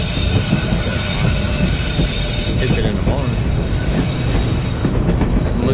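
A Skagway sightseeing train runs steadily along the rails with continuous rumbling, rattling wheel noise and faint squeals throughout, while people talk over it.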